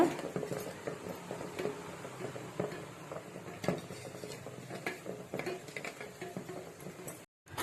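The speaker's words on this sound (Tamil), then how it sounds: "மிக்ஸ் பண்ணிட்டு நல்லா கிண்டி விடுங்க" A melted homemade soap mixture with added ingredients is stirred in a bowl, giving a steady, fairly quiet run of scraping and clinking utensil strokes.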